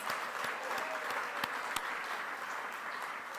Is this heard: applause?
yes